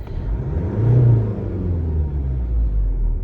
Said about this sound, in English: if I press the throttle and then release it, the numbers will raise and then climb back fairly quickly